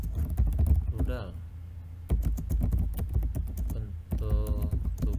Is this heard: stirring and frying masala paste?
no